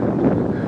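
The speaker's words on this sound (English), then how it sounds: "Typical spring weather, kind of windy, blustery." Blustery spring wind rushes outdoors as a steady, loud, broadband roar buffeting the microphone, with no voices.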